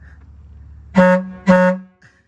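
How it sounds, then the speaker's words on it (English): Two loud blasts from the horn of an 80-year-old Art Deco bus RV powered by an inline six-cylinder 6-71 Detroit diesel, each a steady brassy tone about half a second long, close by, with a quiet pause before and after. "Now honk the horn."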